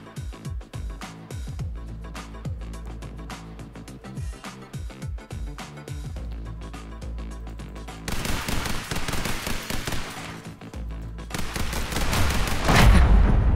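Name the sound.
machine gun fire in video game The Hong Kong Massacre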